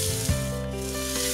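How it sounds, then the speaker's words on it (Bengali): Onions frying in oil in a wok, a soft continuous sizzle with a light scraping rub near the start, moderately loud and steady, with a low tonal hum beneath and no voices. "পেঁয়াজ দেওয়ার পর আবারও 3-4 মিনিট একটু ভেজে নেব"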